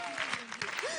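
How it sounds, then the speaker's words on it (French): A studio audience at a French television entertainment show applauds in a brief, dense burst, with voices and cheering mixed in. "On peut l'applaudir très très fort."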